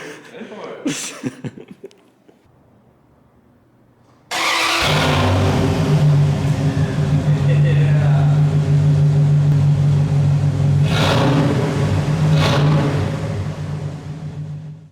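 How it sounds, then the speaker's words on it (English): After a few quiet seconds with a brief voice, a second-generation Dodge Ram engine cold-starts with headers and no muffler, cranking and roaring to life, running loud, raw and unmuffled with rough revving. "I think we should do a little cold start. But no muffler on there."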